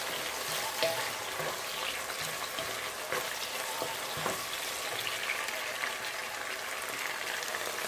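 Onions sizzle steadily in a hot pan while being stirred, with occasional scraping knocks from the utensil over a constant broadband fry hiss, close and moderately loud, with no talking.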